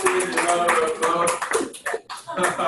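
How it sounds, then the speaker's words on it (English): An audience applauding a speaker, a burst of dense clapping with cheering voices mixed in that briefly dips and then swells again, close and fairly loud. "Can we give Captain a round of applause?"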